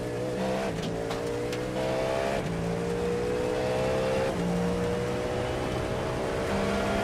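GT3 race cars roar continuously in a video game endurance race, with engines revving up and down through gear shifts, overlapping cars close by and occasional tire squeal.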